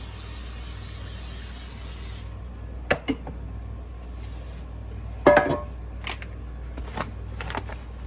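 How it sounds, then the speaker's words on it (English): Cooking spray hisses onto a loaf pan in one steady burst lasting about two seconds, followed by quieter kitchen clatter and a few knocks of the can and pan. "let's go ahead and get this loaf pan sprayed"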